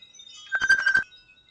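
A phone rings with an incoming call, a short burst of bright electronic ringtone pulses lasting about half a second, clear and alone with no voices.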